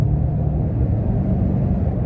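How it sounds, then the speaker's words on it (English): A Toyota Tundra fitted with a Sprint Booster accelerates, its engine giving off a steady, loud low rumble that holds evenly throughout. "it is a nice, smooth transition from when you hit the gas pedal to when it takes off, which is right now"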